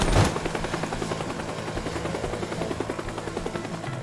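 Rapid bursts of gunfire in the video game Teardown rattle continuously in a dense, even rhythm, opening with a sharp louder crack.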